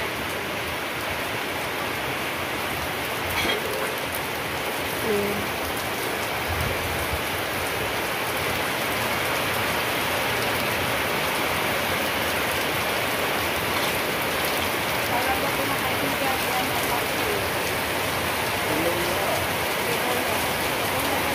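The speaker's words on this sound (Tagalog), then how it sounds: "Ulan." Steady heavy rain pours down during Typhoon Wilma, a dense unbroken hiss of drops on surfaces that stays loud and even throughout with no voices.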